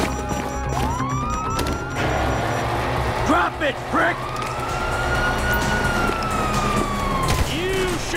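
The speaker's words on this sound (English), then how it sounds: "you hear that? Sirens." Police sirens in the Grand Theft Auto 5 video game wail up and down through the whole stretch beside gunfire bursts and game noise, while someone speaks loudly over them.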